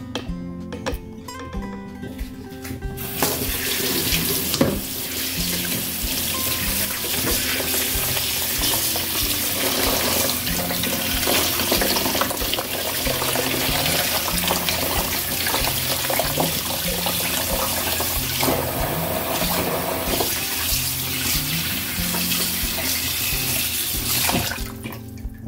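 Tap water runs steadily into a sink while chicken drumsticks are rinsed, a continuous splashing stream that starts after a short quieter opening, with some muffled handling of the meat.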